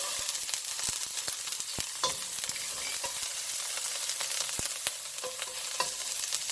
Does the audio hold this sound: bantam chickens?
no